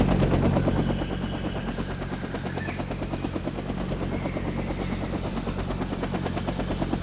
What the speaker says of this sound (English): Our choppers are taking RPG fire.